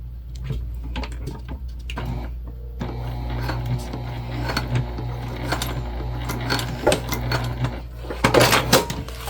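A sewing machine basting sections of a travel sling bag at a narrow seam allowance, a steady close mechanical hum with clicks and taps, a louder rattle of stitching near the end.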